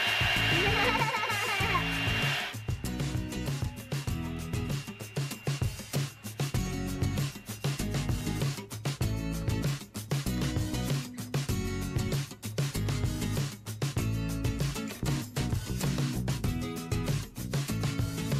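A Babyliss Big Hair rotating hot air brush runs on its highest heat setting, giving a steady whirring blow with a continuous buzzing motor tone throughout, a few brief higher sounds at the start.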